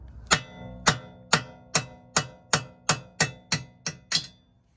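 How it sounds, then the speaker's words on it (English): Ten sharp metallic hammer strikes ring out at an even pace as a wheel stud is tapped out, each bright clank decaying quickly, close and loud with no talking. "get a hammer and tap the stud"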